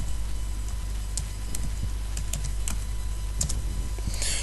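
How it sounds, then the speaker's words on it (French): Someone types on a computer keyboard, entering GeoGebra into a Google search: a run of scattered, close key clicks over a steady background hum. "Il suffit de taper sur Google GeoGebra."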